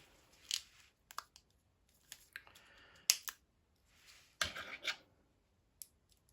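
A silicone mould casting being cut, heard as sparse, close, quiet snips and crisp tearing crunches separated by near-silence, with one longer rasping cut toward the end.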